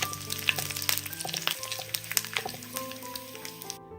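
Onions and halved dried red chillies frying over medium flame while being stirred in a pan, with crackling sizzle and frequent clinks and scrapes of the spoon close by, no voices.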